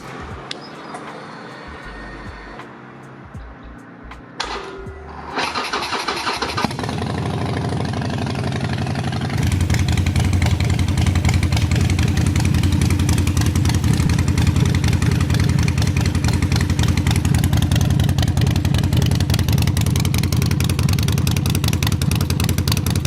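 A broken Harley motorcycle engine cranks with a few sputtering attempts, then catches and settles into a loud, steady, rumbling idle close by.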